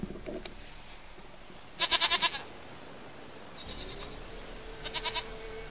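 Goat bleating in The Witcher 3: two clear bursts of rapid, pulsing bleats, the first louder near the middle and a shorter one near the end, over quiet game ambience with no talk.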